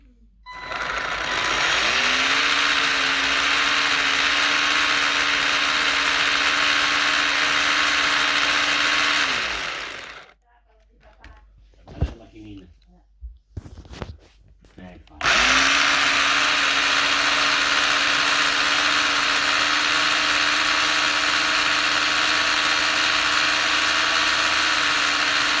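A Tamiya DF-01 RC car drivetrain, fitted with brand new ball bearings, runs with a loud steady high whine, cuts out for a few seconds of clicks and knocks, then whines steadily again.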